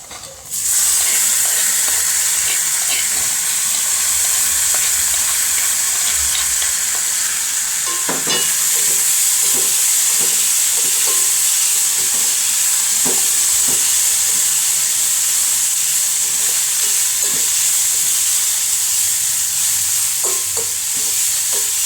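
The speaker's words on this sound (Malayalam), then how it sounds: "ഉള്ളി മൊരിച്ചിട്ട് ഇനി കറിവേപ്പില ഇട്ട് കൊടുക്കാവേ." Onions, curry leaves and chili frying in a pan give a steady, loud sizzle with steamy hiss throughout, broken by scattered stirring scrapes and clinks, with no talking.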